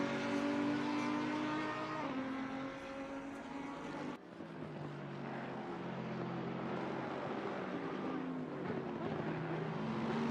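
Race car engines drone and whine at varying pitch as Porsche and Mercedes cars pit during a 12-hour Imola endurance race in a racing video game, with a sudden shift in tone partway through.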